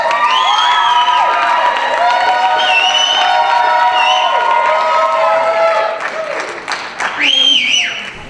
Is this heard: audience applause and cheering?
yes